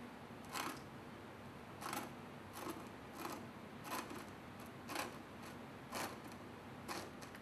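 A hand-cranked slider mechanism on a Quakecaster earthquake model gives a steady series of sharp mechanical clicks and ratchets, about once a second, over a faint hum with no talking.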